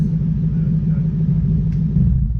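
A Toyota 1UZ V8 engine fitted in a Massey Ferguson tractor rumbles steadily and loudly up close, a deep continuous drone holding even throughout with no talk.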